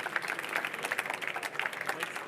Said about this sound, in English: let's raise our hands and give these change makers a round of applause.